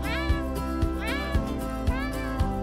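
A purple cat meows repeatedly in drawn-out, wavering cries over a steady rhythmic music track.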